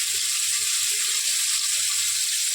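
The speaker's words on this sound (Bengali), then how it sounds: "আর এখন ভাজবো পটল" Pointed gourd (potol) frying in hot oil, a steady close hiss of sizzling with faint low knocks underneath, no speech.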